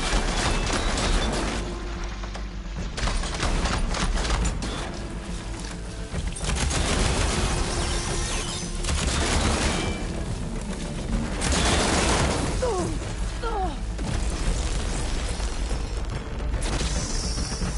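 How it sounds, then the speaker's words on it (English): Plasma detonation blasts in the video game Horizon Forbidden West, a dense barrage of loud booms and crackling bursts repeating throughout amid continuous battle noise, with no talk. "Plasma's going to detonate!"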